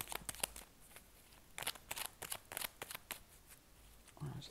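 Tarot cards are cut and handled close up: quick crisp riffles and flicks of card stock in short bursts, quiet, with a brief soft rustle at the end.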